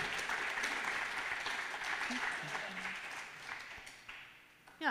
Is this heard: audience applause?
yes